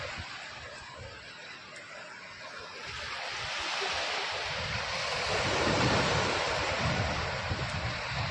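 Sea waves wash onto a village beach in a broad, continuous surf roar that swells slightly midway, with gusty wind buffeting the microphone.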